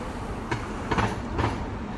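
Korean subway train running, a steady low rumble of the carriage in motion with a few faint rattling clicks and knocks rising briefly, no voices over the brief stretch.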